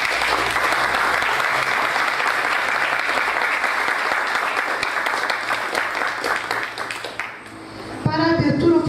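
An audience at a civic ceremony of a heraldic institution gives sustained applause that tapers off near the end, where a voice begins speaking over a public address system.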